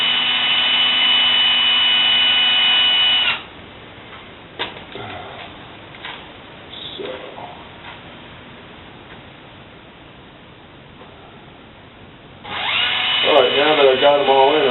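Power drill with its clutch set to the lowest, driving bolts while mounting tires, a loud steady whine for about three seconds, then quiet clinks and handling, and a second whirring run near the end.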